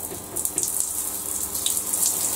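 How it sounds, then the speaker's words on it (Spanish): Cold water running from a shower over a ficus planted on rock, a steady splashing rush with small spattering bursts as the stream hits leaves and stone, close and continuous. "A regarlo bien por arriba, como si le estuviera lloviendo"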